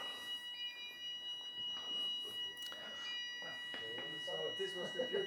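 A steady alarm tone with several sustained pitches holds at moderate loudness for the whole stretch, while voices and crowd noise carry on over it at an immersive shopping performance.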